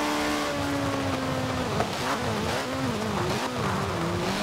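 A stock 1985 Ford RS200 Evolution, mid-engined with five gears, drives hard on tarmac in Forza Horizon 4. The engine drones loud and close, pitch dipping and climbing through shifts, with hints of tire squeal.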